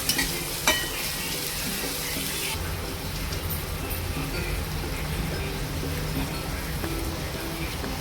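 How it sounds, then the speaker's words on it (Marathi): Onion, curry leaves and tomato sauté in a pan for cashew-pea upma, a steady close sizzle with a couple of stirring knocks early on and no talking. "कांदा चांगला ट्रान्सपरंट झाल्यावर यात कढीपत्ता आणि टोमॅटो घालून घेतला आहे तेही छान परतावून घेतलं आहे"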